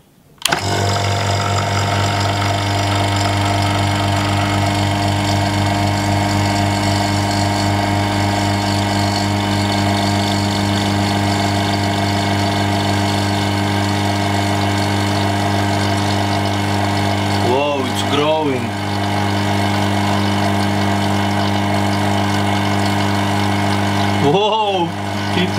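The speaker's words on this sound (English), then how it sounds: "And now let's turn on the pump." A vacuum pump runs steadily and loudly for the whole stretch, drawing down a vacuum chamber holding bleach, with a constant droning hum and two brief dips in its tone.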